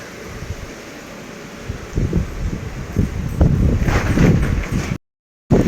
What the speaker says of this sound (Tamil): காற்று சூப்பராக அடிக்குது